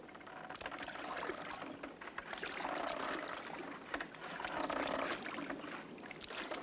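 Oars working a rowboat on open water, steady rhythmic splashes and strokes repeating through several seconds, fairly faint and distant with light wind noise, no voices.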